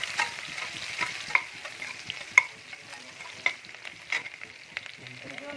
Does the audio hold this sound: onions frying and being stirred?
yes